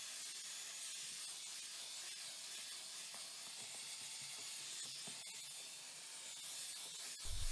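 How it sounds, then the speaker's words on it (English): Bissell carpet cleaner steadily spraying water onto the filthy interior of a Fiat 500, a continuous close hiss with no talk, ending in a brief louder burst. "I'm just taking the Bissel, spraying a little bit of water out of the machine to get it a little bit wet"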